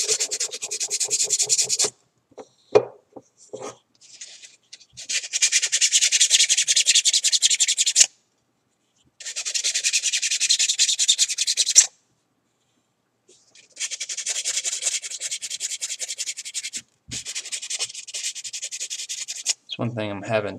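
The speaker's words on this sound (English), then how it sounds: "Typically when I sand like real close to me just so I can see it" Hand sanding of a wooden prop in a workshop: repeated bursts of raspy rubbing strokes, several seconds each, separated by short silences, close and clear.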